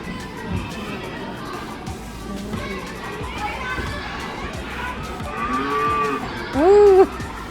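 A cow lows once near the end, a loud drawn-out moo rising over a busy outdoor crowd with children's voices and chatter at a farm attraction during a spring break trip in Atlanta.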